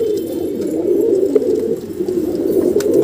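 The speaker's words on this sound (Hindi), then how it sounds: "ये धुमा कबूतर है" A round-headed dhuma pigeon coos continuously up close, a low throaty rolling sound that swells and dips slightly, with faint background ticks and no voices.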